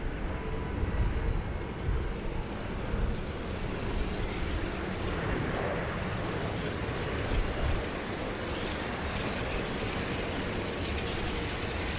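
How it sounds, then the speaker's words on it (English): An Airbus A380 airliner at Sydney Airport gives a steady, loud, broadband engine roar that holds evenly across the whole stretch with no voices. "Alright, here we go, our first of 2 A380s"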